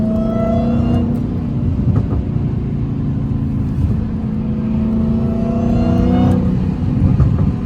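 Dodge Hellcat engine accelerating on a late-night drive, a loud, deep, steady roar heard from inside the car that swells and eases with throttle, without talk.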